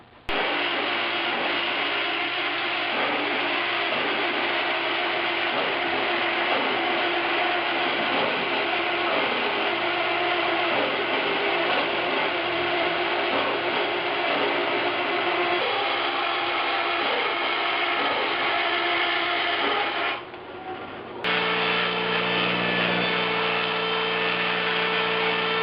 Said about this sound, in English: Took a bit of grinding, but the patch panel fits pretty well